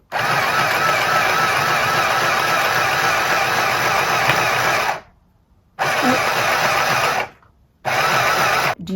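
Newly unboxed sewing machine stitching under foot-pedal control, a fast steady mechanical whirr that runs in bursts and stops twice briefly, close and loud with no talk.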